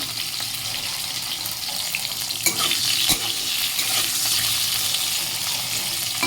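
Pointed gourd (potol) frying in a pan, a dense continuous hiss of oil with occasional stirring knocks and a sharp clink near the middle, steady and fairly loud throughout.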